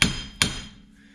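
A hammer strikes a steering knuckle on a Jeep Cherokee twice, two sharp close metallic blows about half a second apart, each ringing briefly before fading, with no talking.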